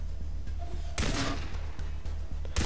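Gunfire at a wild boar in Far Cry 3, two sharp loud shots about a second and a half apart over a steady low game-ambience hum.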